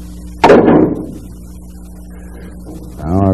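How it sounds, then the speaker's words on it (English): Pool cue sharply striking a ball on a bank shot, one close, loud crack followed by fading rattle, quiet pause, then faint rolling and a soft knock at the end. "Okay, I'm going to attempt to bank all five of these balls."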